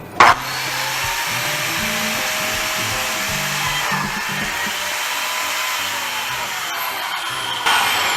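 A Makita PJ7000 biscuit joiner runs at full speed, a loud, steady motor whine close by with a short thump at start-up and a slight surge near the end.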